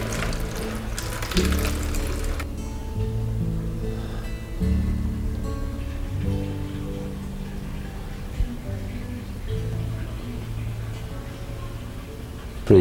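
Water poured onto potting soil to wet it down before planting an indoor herb garden, a steady gurgling trickle with a brief splashy rush near the start, close and fairly quiet, with faint murmurs and a clunk at the end.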